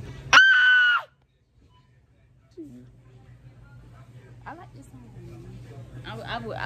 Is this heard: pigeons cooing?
no